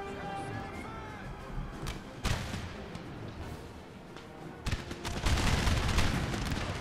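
Infantry in Napoleon: Total War fire muskets at will in ragged volleys, with scattered sharp cracks and booms building into a dense, loud crackle of fire near the end.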